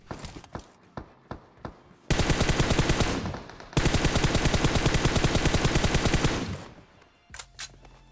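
M762 rifle fire in the PUBG Mobile video game opens with a few single shots, then breaks into two long, loud, rapid automatic bursts, followed by a few scattered shots at the end.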